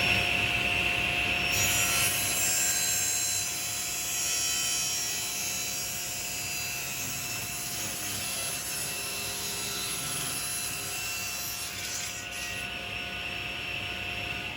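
A table saw rips a narrow wooden board, giving a continuous, loud, close whine of blade through wood that eases slightly and holds steady with no talk.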